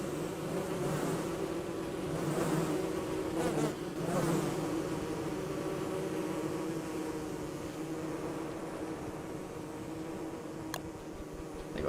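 Bees buzz steadily in the Don't Starve Together survival game, a dense, continuous insect drone that holds at an even loudness for the whole stretch with no talking over it.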